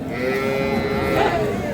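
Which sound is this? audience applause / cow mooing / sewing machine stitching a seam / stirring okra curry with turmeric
cow mooing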